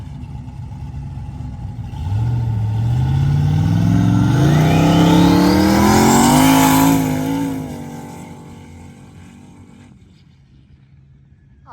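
A turbocharged Chevrolet Blazer on the Silver Lake sand dunes revs hard: the engine note climbs steeply and loudly as it accelerates, holds near peak, then fades away as the vehicle moves off.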